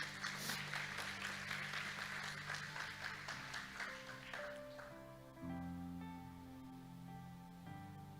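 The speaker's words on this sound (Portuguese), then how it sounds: "Um salve de palmas para o Gustavo." Church congregation applauding during a Sunday service, a soft, fairly distant patter of clapping that fades after about five seconds into background music.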